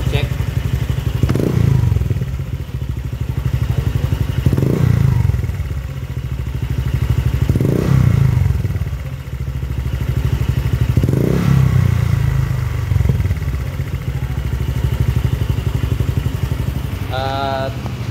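Honda Click 150i scooter fitted with an aftermarket Exos X6 exhaust, idling and revving in a steady loud drone with rhythmic swells every few seconds, close to the recorder.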